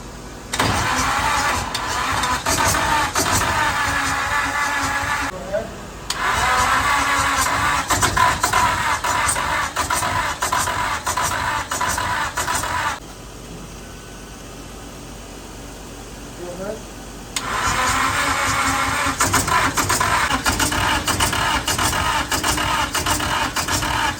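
A Nissan S13 engine cranks and runs loud and close on a first start attempt, roaring for several seconds, cutting out, then firing up again, with people talking over it.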